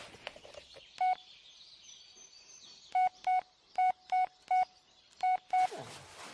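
An old-school phone is dialed in the video game Blair Witch, with a string of about nine short, clear tone beeps, spaced unevenly and close, over a quiet background.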